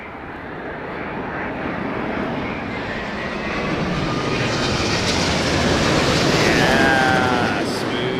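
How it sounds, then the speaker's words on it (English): An airliner makes its approach to land at Heathrow during Storm Darragh. A loud, sustained jet engine roar builds slowly, mixed with heavy gusting wind, and a voice comments quietly underneath. "So the first officer is bringing this aircraft in."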